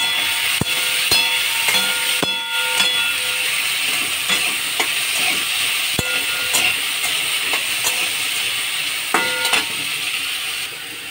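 Banana stem dropped into hot oil with cumin seeds and dried chili in a kadai, a steady loud sizzle and hiss with occasional clinks and scrapes of a stirring spoon.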